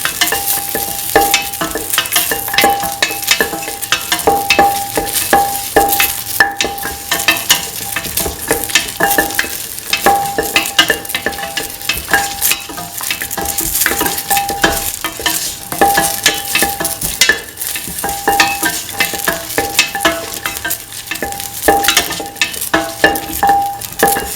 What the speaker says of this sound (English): Salt and mix the red chillies to the rest of the mixture.